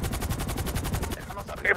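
Machine gun fire rattles in a rapid, even burst during a video game shootout around a house, loud and close, then breaks off into scattered sharper shots.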